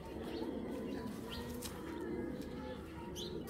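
Racing pigeons coo softly and steadily in a loft, a low continuous murmur with a few faint chirps and a brief wing flutter mixed in.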